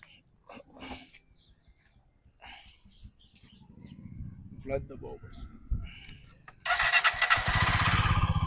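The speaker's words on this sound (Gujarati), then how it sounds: "મિત્રો એક જ સેલ્ફે ગાડી સ્ટાર્ટ થઈ ગઈ છે અને અત્યારે ગાડી સ્ટાર્ટ છે." A motorcycle engine catches on a single press of the electric self-starter, then runs at a loud, steady idle after scattered handling clicks and knocks.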